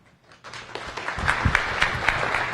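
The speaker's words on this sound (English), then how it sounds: "Let's give her a round of applause." A science cafe audience applauds after a talk on the Moon and Apollo: a short burst of clapping that starts abruptly and holds steady, close and moderately loud.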